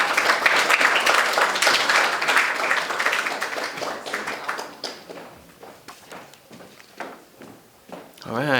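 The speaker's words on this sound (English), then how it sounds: "Let's give a warm round of applause for Divya Mehrish out of the Spence School." Audience applause at a 2019 New York high school poetry awards ceremony. Dense clapping fills the room at first, then thins over several seconds into scattered claps and shuffling footsteps.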